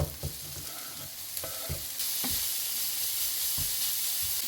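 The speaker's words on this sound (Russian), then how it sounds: "И все вместе пассеруем пару минут." Grated carrot and onion sautéing together in a pan, a close, steady frying sizzle with scrapes and taps of stirring over it.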